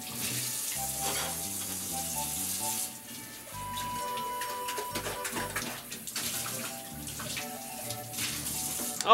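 Water runs from a kitchen tap as vegetables are washed, a continuous splashing stream under background music and occasional voices.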